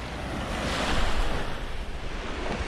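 Ocean waves breaking on a beach at Grand Cayman, a steady broadband wash of surf with a gentle swell in the middle, heard close and fairly loud with some wind noise and no talking.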